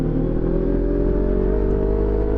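A CFMOTO NK400 motorcycle idling with a steady low engine drone and faint exhaust pops, close by and continuous.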